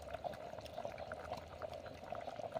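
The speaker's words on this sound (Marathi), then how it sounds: "आणि छान अशी उकळी आलेली आहे." Spiced village-style rice bubbles in a covered pot, a quiet, even simmer of small popping bubbles heard close up with no talking.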